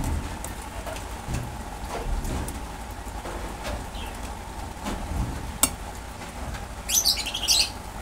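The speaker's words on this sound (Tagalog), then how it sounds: "ingay ng aking mga ibon" Birds chirp and tweet in scattered bursts, strongest near the end, over a steady patter of rain-like background noise.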